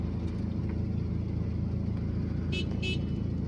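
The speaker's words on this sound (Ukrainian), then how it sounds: "Ось бачите, нам сигналять." Two short car horn honks from another road user sound in quick succession over the steady rumble of an engine inside a vehicle on a driving test route in Bucha, with no talking.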